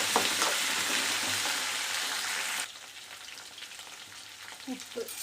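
Okra fries in hot oil with mustard seeds and curry leaves, a loud, dense close-up sizzle that suddenly drops to a softer, crackling fry partway through.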